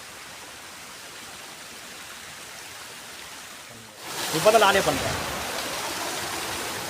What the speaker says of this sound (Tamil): வாட்டர் ஃபால்ஸ் தாண்டி போயிட்டுருக்கோம். வாட்டர் ஃபால்ஸ் பாருங்கள்,